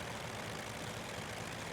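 A Ryan ST-A Special plane engine in Microsoft Flight Simulator 2020 revs up as the throttle opens, a steady, dense, rumbling drone that stays constant and fairly quiet throughout, with no talking.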